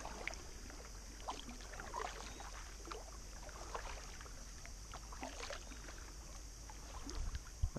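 Canoe or kayak paddling on Prettyboy Reservoir, with soft, irregular water splashes and drips from paddle strokes over a steady faint background hiss, no voices.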